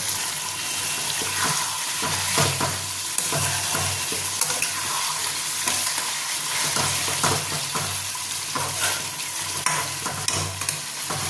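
Egg and potato in a gravy with biryani masala are stirred in a pan: a loud constant sizzle runs under repeated scraping strokes of the spoon, with no talking.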